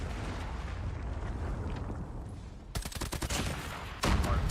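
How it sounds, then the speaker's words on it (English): A Predator missile strikes in a competitive esports video game match, with a rumbling blast and a crackle of rapid bursts, then a heavy boom that closes the loud, dense battle din. "Friendly Predator missile inbound."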